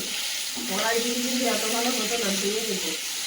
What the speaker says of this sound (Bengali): সব থেকে দারুণ ভাজা হচ্ছে কিন্তু একটু কড়া করে ভাজবে